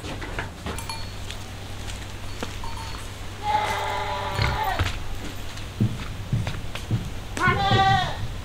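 Anglo-Nubian goats bleating on a farm, several wavering cries in the middle and near the end, heard over background noise and a low hum.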